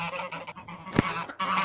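Ducks and chickens in a short burst of honking, goose-like fowl calls, close and fairly loud, with one sharper squawk in the middle and no talking.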